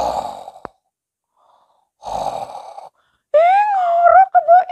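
A human voice imitates the deep snoring of the sleeping giant Kebo Iwa: two long breathy rasping inhales separated by silence, then a loud wavering groan-like tone, close and exaggerated.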